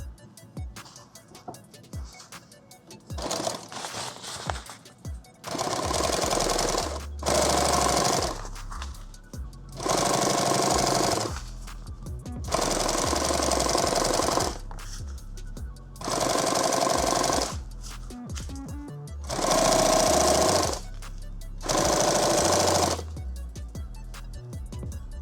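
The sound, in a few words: sewing machine stitching a padded war belt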